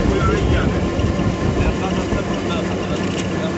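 Rented auto-rickshaw engine while riding toward Lembur Char near Kuakata, a steady droning rumble with road noise throughout, under a voice talking.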